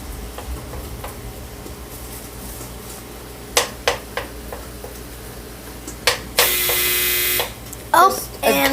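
Scattered clicks and knocks in a kitchen give way to a clothes dryer's loud, steady electronic finished buzzer lasting about a second, followed by a few more sharp taps.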